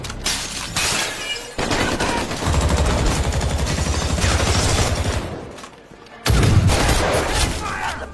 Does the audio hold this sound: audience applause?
no